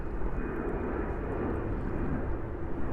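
A Delta Boeing 767 airliner bound for Berlin takes off at JFK airport, its jet engines producing a loud, steady, broadband roar that holds unbroken throughout.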